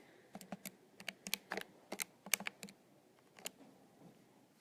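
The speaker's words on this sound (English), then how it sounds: "Type that in your calculator, 180 minus 117." Separate key presses tapped on a calculator while entering a subtraction problem, arriving as irregular sharp clicks in short bursts with brief pauses between them, close and fairly quiet with no voices.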